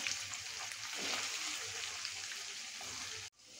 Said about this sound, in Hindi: अब मैं इसे थोड़ा पलट लेती हूँ, ज्यादा नहीं भूनना है इसे